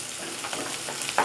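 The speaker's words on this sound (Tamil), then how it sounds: "நல்லா வதங்கட்டும் வெங்காயம்" Small onions (shallots) fry in oil for a mutton pepper fry, a soft continuous sizzle with a brief stir near the end, quiet and with no talk.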